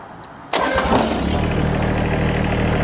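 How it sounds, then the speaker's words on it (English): Kubota BX80 series compact tractor with loader and backhoe: a short starter crank, then the engine catches and settles into a steady, loud idle close by. "So I'm going to go ahead and start the tractor."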